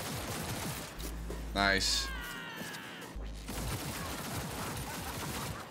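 A Cyberpunk 2077 firefight, with rapid gunfire crackling steadily under a droning game score and low rumbling tones. A voice speaks briefly in the middle.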